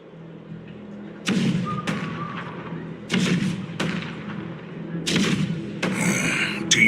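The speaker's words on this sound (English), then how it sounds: "The rumble of the cannons." Cannons fire in a video game battle, heavy booming thuds landing at intervals over a constant low rumble of combat, with a few sharper blasts toward the end.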